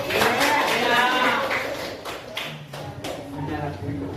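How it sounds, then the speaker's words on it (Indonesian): Students in a classroom clap for a classmate's answer, a short burst of scattered handclaps that tails off while voices talk through it. "Yang berikan dulu tepuk tangan ya"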